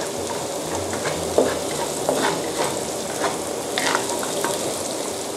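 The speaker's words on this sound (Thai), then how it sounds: "ผัดให้เหลืองสุกหอมนะคะแล้วก็เราก็จะใส่เนื้อปลาลงไป" Aromatics stir-fry in a hot pan before fish meat goes in for steamed fish-filled dumplings, a steady close sizzle broken by repeated scraping strokes of a spatula at an even rhythm.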